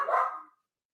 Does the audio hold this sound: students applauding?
no